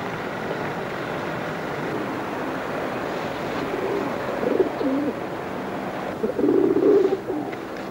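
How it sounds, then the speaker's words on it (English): Pigeons cooing, a few low soft coos rising over a steady background rush of wind or surf, moderately close. "These pigeons are really something"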